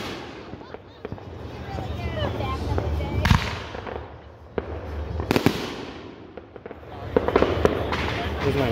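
Fireworks burst repeatedly at a 2022 backyard fireworks show, with loud sharp booms and crackling near and far at irregular intervals, while people chatter nearby.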